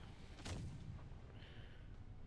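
An artillery gun fires once in a naval combat video game, a muffled boom and rumble over a steady low background drone.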